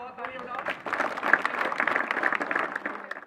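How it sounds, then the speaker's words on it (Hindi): A crowd at a community gathering in Dantewada claps together in a dense burst of applause that swells and keeps going throughout, heard fairly close. "बहुत तालियां बजाओ।"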